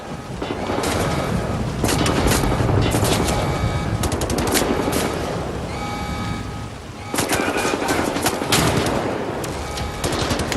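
Rapid automatic gunfire and bursts of shots in a first-person shooter video game with mech enemies, dense and loud throughout with brief pauses, a player's voice faintly in the mix.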